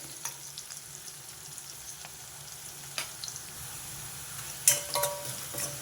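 Onions fry in hot oil in a pan for capsicum masala curry, giving a soft, constant sizzle with occasional spoon clinks and stirring scrapes, louder stirring near the end.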